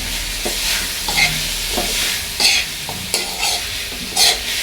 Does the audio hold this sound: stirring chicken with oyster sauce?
yes